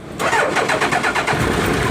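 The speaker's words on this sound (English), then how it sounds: "Let's see if I could demonstrate a quick start here." A nearly cold 1999 Suzuki Hayabusa motorcycle engine cranks and catches, then runs loud and close with a rough, pulsing idle for about two seconds, with no voices.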